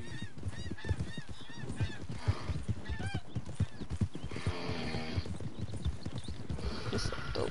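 Steady clip-clop of horse hooves in a PS4 video game continues with a horse whinnying and honking goose-like calls on top, busy and close.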